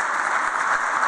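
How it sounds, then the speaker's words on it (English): Audience at a conference session clapping for the presenters, a steady, dense applause sustained throughout. "Big round of applause."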